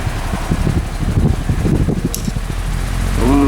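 A steady whirring hum of an electric fan motor, with soft rustling air noise; the motor pitch rises slightly toward the end.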